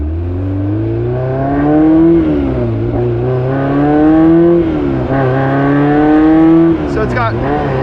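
A Honda S2000's built K24 engine hums steadily and climbs in pitch through gears, the note rising and dropping as the car accelerates, heard from inside.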